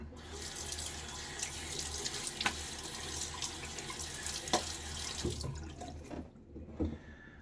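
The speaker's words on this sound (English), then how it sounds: "Now I get my face wet." Tap water runs into a sink while someone wets their face before a shave, making a soft, steady splashing with a few small splashes and drips nearby.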